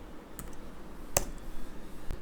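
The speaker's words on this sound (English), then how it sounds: "I am opening a terminal and typing Python" Keys tapped on a computer keyboard while a terminal is opened to type Python, a few sparse, quiet clicks spread over a couple of seconds against a faint background hiss, no voices.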